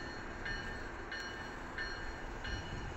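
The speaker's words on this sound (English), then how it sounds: "Electric South Chicago train number 325 to 93rd Street in South Chicago is now approaching your station." An electric South Chicago commuter train rolls toward a station platform, a faint low rumble with regular high clicking or squealing tones repeating roughly every half second, with no voices.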